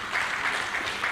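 Steady applause from an audience at a ceremony decorating newly promoted service officers, heard as an even, fairly quiet wash of clapping in a very short burst.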